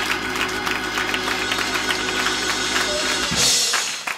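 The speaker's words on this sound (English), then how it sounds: "Somebody clap your hands" A church congregation claps along during a sermon, a dense, steady patter of many hands that carries on for several seconds over a low sustained hum.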